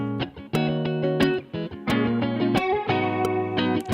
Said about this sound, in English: we're gonna send that out to the reverb